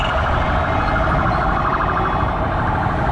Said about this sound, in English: There is an ambulance,